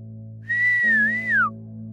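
An eerie, drawn-out whistle with a slowly wavering pitch that dips and then rises before falling away, played over a steady low hum in an otherwise quiet setting.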